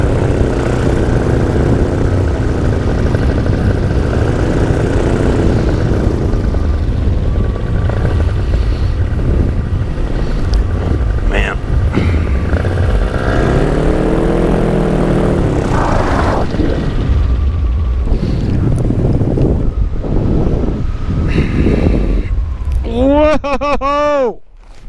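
A small propeller plane comes in fast to land, its engine droning loudly and steadily up close with pitch shifts and wavering tones, before the noise cuts away and a voice speaks at the very end.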